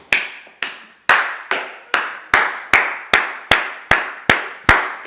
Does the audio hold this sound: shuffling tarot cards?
no